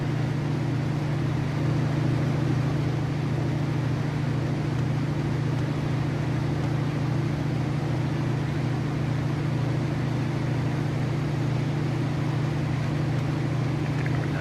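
The MilViz Beaver's piston engine drones at cruise power in FSX, a constant, even, close cabin hum with no change in pitch or level throughout.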